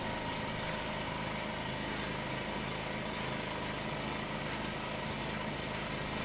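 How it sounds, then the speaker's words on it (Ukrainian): A GRAD 5710935 generator's combustion engine idles with a steady, continuous drone and even mechanical rumble, close by and unbroken for the whole stretch, with no voices. "Підводимо шнур до супротиву і заводимо ДВЗ"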